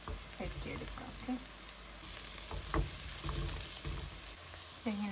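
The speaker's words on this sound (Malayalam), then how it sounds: "ഇങ്ങനെ ഒരു 3 മിനിറ്റ് ഞാനിതൊന്ന് മിക്സ് ചെയ്ത് കൊടുത്തു കേട്ടോ, വഴറ്റി കൊടുത്തു" Spice powders fry on a low flame in a pan for a mahi mahi fish curry with coconut milk, a steady soft sizzle broken by occasional spoon scrapes as the masala is mixed.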